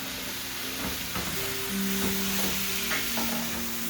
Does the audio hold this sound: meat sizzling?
yes